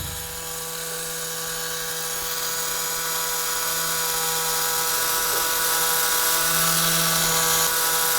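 A small DC motor spins steadily at 9700 RPM, giving a continuous, even high-pitched whine with a faint hum beneath, close and unbroken, with no voices.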